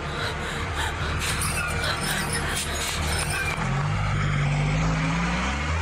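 Heavy engine rumble of a truck rolling past on a street, loud and continuous with a rising low drone near the end, traffic noise filling the background.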